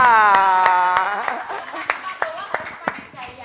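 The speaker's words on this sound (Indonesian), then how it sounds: "tepuk tangan Mbak Yudhistira." An audience applauds at a Yogyakarta forum on small business productivity and marketing, beginning under a voice and then thinning into sparse, separate claps that fade.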